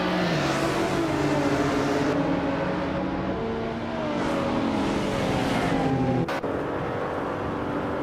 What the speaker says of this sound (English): the race is underway at Auto Club Speedway